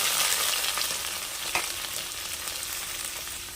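Sliced medium onion and chopped capsicum sizzle steadily in hot oil over a high flame. The frying is close and loud throughout, with a brief louder crackle as the pieces are stirred.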